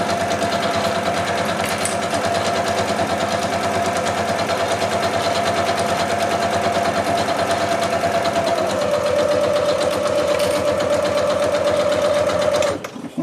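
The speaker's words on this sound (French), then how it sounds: "il y en a qui nous posent la question de savoir si cette machine passe les épaisseurs" A sewing machine runs steadily, stitching through thick layers of a fabric mat with a continuous, close, rapid mechanical whir that holds an even pitch and stops abruptly at the end.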